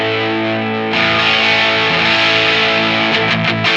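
Angel of Rock distortion pedal with the tone knob set very trebly gives a bright, fizzy, sustained distorted guitar chord that is restruck once and ends in a few quick choppy hits.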